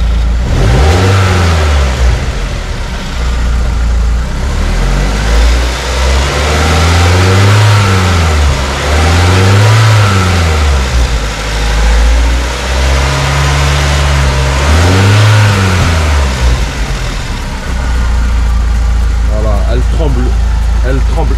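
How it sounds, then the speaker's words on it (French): BMW Z3 roadster with a 1.9-litre M44 four-cylinder and a heavy ignition misfire, revved repeatedly against a cut-out near 4000 rpm; loud, close engine climbing and falling in rough surges, with a steady idle between. "grosse ratée d'allumage, donc elle dépasse pas les 4000 tours, elle rupte en fait à 4000 tours"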